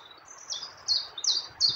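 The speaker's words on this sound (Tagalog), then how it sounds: "Mga huni ng ibon." Birds chirping in the trees on a cold hillside, four or five short bright calls in quick succession, clear and fairly close, with nothing else beneath them but a faint quiet background.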